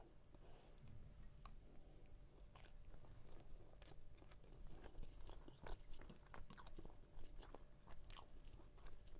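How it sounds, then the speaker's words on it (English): Close, crisp biting and wet chewing of raw herring on rye bread, with steady crunchy and squishy mouth sounds repeating throughout, loud and intimate with no talking. "It's also tiring to chew and chew, guys."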